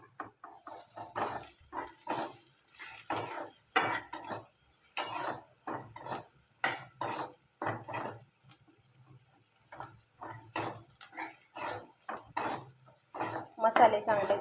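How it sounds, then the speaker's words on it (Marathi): Food being sautéed in oil in a home kitchen pan, with repeated clinking and scraping of a metal spoon against the pan in uneven bursts and a faint sizzle between strokes. "हे चांगलं आता परतून घेते"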